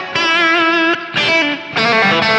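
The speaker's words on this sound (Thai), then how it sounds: "ลองฟังเป็นเสียงแตกกันดูเนาะลองดูที่บิดก่อนแล้วกันครับ" A distorted Fender Stratocaster electric guitar plays three sustained, gritty chords, each ringing out before a brief gap, loud and close.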